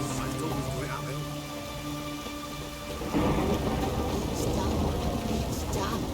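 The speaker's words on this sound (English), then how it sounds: "It's raining" Steady rain hissing with rolling thunder in The Witcher video game, the downpour swelling louder about halfway through as a deep rumble builds, with voices murmuring underneath.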